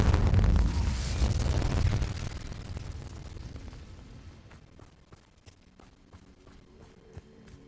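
An Incendio fire spell is cast in the video game Hogwarts Legacy, giving a loud fiery whoosh that bursts out at once and slowly dies away over several seconds, leaving faint clicks and light steps behind.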